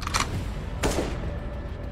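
Gunfire in a SpongeBob horror video game: a loud burst of shots near the start, then a heavier blast just before the one-second mark, ringing out over a steady low background hum.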